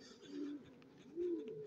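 Black-barred pigeons kept as a hobby flock give two low, rolling coos in close succession, near and fairly soft against a quiet background.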